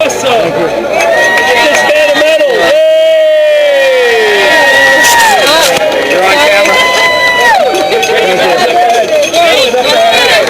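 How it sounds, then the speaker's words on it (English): Spectators cheer and shout along the course of the 2011 New York City Marathon, a loud, continuous crowd roar with whistles and high calls over the rolling noise of a handcycle. "I got to feel more of the experience of the people cheering."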